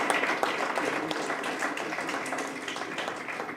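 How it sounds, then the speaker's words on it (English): An audience applauds the Tamil Nadu governor after his speech at a Sri Sivan Sar Yoga Sabha event, a steady wash of many hands clapping at moderate distance throughout, with faint voices mixed in. "Let's give a big round of applause to the honorable governor for his speech."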